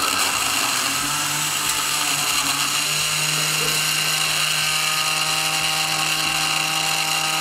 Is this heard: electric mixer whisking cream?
yes